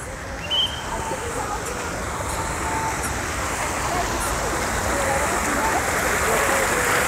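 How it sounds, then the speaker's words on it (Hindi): A decorative waterfall at the entrance of DLF Avenue mall in Saket, Delhi, gives off a steady, full rush of falling water that stays even and continuous throughout. "और ये रहा वाटरफॉल।"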